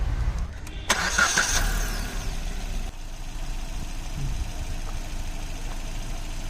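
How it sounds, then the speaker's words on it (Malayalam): A Maruti Suzuki Vitara Brezza BS6 2020 engine cranks and catches with a brief loud start, then settles into a quiet, steady idle. "എൻജിൻ ഒന്ന് സ്റ്റാർട്ട് ചെയ്ത് അതിൻ്റെ സൗണ്ട് വൈബ്രേഷൻ ഫീലിങ്സ് ഒക്കെ ഒന്ന് നോക്കാം"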